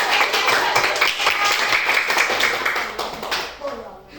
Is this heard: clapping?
yes